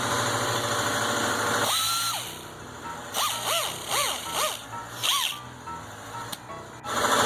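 A cheap Harbor Freight air grinder whines in short bursts, its pitch rising and falling with each squeeze of the trigger, over a steady background hum while trimming a rocker panel on a 1955 wagon.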